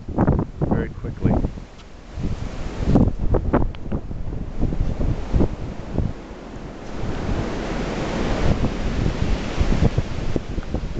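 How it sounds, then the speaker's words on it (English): Strong wind blows hard across a New York City street the day after a major December 2010 blizzard, a steady loud rush buffeting the microphone, with someone speaking over it. "Wind is still blowing real heavily,"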